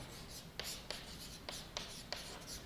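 Chalk or marker taps and scratches across a board in a physics classroom, a quiet run of short rhythmic strokes about every third of a second, close up with no voices.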